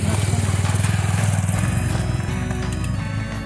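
A motorcycle climbs a steep hill road toward a waterfall, its engine thumping in a loud, rapid, throbbing beat close by, with the clutch worked on and off as the note shifts partway through.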